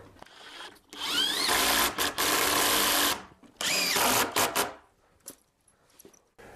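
A small Bosch impact driver drives screws up from underneath into a homemade wooden workbench in loud bursts of whirring and hammering, pausing between screws before softer handling noises.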